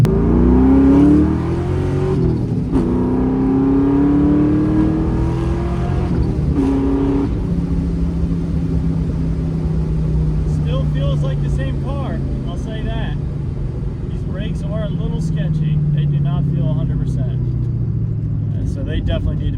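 A Ford Mustang being driven after sitting unused for two years, its engine loud and near, rising in pitch through several revs early on, then cruising with a steady drone while tyre or road noise and faint rattles come through.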